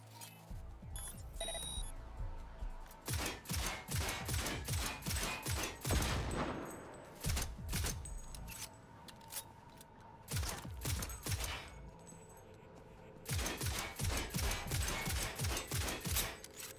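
Turret gunfire in Cyberpunk 2077 fires in repeated rapid bursts across the whole stretch, with clattering volleys broken by short lulls and mixed with beeping electronic alarm tones, loud and close.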